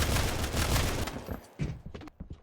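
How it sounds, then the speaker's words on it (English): Machine gun fire rattles in a competitive video game match, a dense, loud burst of rapid shots that breaks into scattered, sharper cracks toward the end. "Chunking him with that machine gun."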